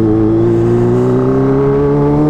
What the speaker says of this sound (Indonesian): suara knalpotnya kenceng banget